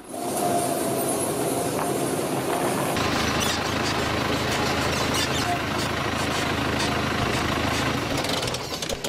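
A latest-model farm tractor drives through a village in Serdivan, Sakarya, its engine giving a steady, loud low rumble and clatter that grows denser after the first few seconds, with no talk.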